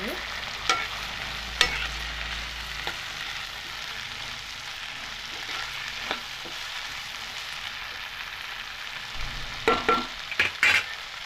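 Tomatoes and brinjal cooking in a pan, a steady soft sizzle and hiss with a few faint clinks and scrapes of stirring, quiet and continuous.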